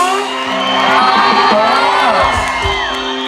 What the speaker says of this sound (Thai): เสียงปรบมือให้ชื่นใจหน่อยได้ไหมคะ เอาแบบดังๆเลยค่ะ มีเสียงด้วยได้ไหมคะ